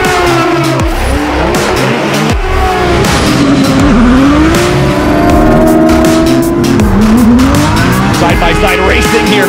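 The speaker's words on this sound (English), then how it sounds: "Side-by-side racing here between two drift buddies" Rush SR race cars run side by side at Lime Rock, with loud, continuous engines revving and shifting pitch and tires squealing, heard up close and mixed with speech.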